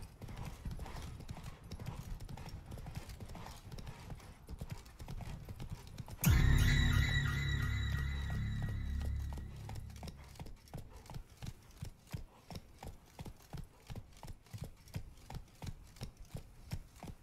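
A horse's hooves clip-clop at a steady gallop in Witcher 3, a quick even beat that continues throughout, with a loud whinny bursting out midway before the hoofbeats carry on alone.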